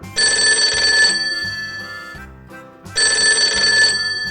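A synthesized telephone rings in a children's educational video game, sounding as two loud electronic bursts of ringing separated by a short gap, over a soft background tune.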